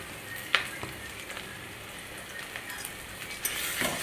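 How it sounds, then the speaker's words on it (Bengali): Onion sizzles gently in a pan as ginger garlic paste is added and stirred in, a low steady frying hiss broken by a few sharp spoon scrapes and clinks, with no talking. "এখন আমি পেঁয়াজের ভিতরে আদা রসুন বাটা দিয়ে দেব।"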